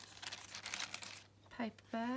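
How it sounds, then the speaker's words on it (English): A paper bag in a pink junk journal crinkles and rustles in quick, close bursts, followed by a voice speaking softly. "paper bag,"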